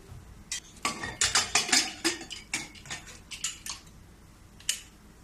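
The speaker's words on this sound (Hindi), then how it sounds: "अब इसको ढक्कन लगा दूंगी।" A metal lid clinks and taps onto a pressure cooker holding raw mangoes and a glass of water, a quick cluster of sharp, close metallic knocks and rattles, then quieter.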